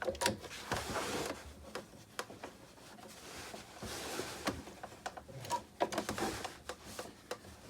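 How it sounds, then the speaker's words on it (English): A sewing machine stitching along a trouser pocket gives quiet, uneven bursts of rapid mechanical ticking and clatter, starting and stopping, close by with no talk. "I'm going to sew along here, making sure that your pocket butts up to the blade"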